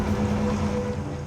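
An Atlantic 85 lifeboat runs through a 10-foot swell in 30 mph winds outside a marina, a steady loud engine drone buffeted by heavy wind noise on the microphone.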